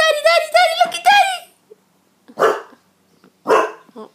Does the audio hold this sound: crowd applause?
no